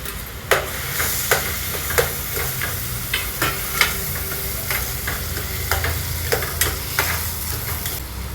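Onion fries for paneer bhurji, a loud, constant sizzle close up, broken by regular sharp scrapes and taps of a spoon stirring the pan.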